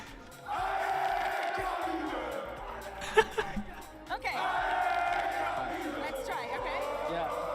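A large crowd roars and cheers at the Valorant Masters Madrid esports event, loud and sustained, with a brief dip near the middle, scattered shouts and whoops, then a swelling return to full volume.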